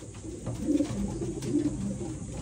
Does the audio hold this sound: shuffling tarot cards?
no